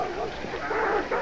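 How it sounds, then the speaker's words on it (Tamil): Dog barking during a Hunt: Showdown match, a few short barks and whimpers rising over steady game ambience, with people talking throughout. "நாய் வர"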